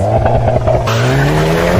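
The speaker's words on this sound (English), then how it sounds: "Listen to that 2-liter turbocharged GDI engine." The 2-liter turbocharged GDI engine of a Hyundai KONA N hot SUV revs loudly at close range, its pitch climbing steadily over a brief, sustained burst with no talking.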